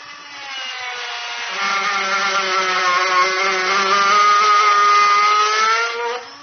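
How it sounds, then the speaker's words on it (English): A Dremel rotary tool cuts off a steel stud on a 2017 Lincoln MKX with a high, steady whine. The tone strengthens as the cut deepens, then it winds down after about six seconds. "So I'm going to use a Dremel tool today."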